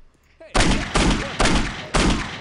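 Four loud gunshots in Postal 2 video game combat, evenly spaced bursts with sharp attacks and decaying tails; a brief voice is heard just before the first shot.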